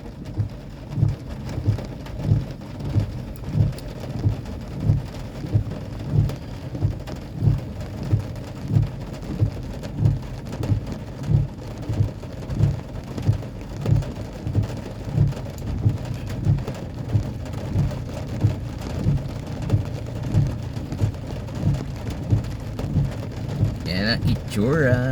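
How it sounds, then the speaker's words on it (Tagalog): Steady rain falls throughout, with a rhythmic pulsing low rumble underneath and no talking. "umuulan."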